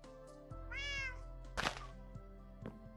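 A cat from the video game Minecraft gives a clear, rising meow, close and distinct over a quiet background hum, followed by a few soft thuds.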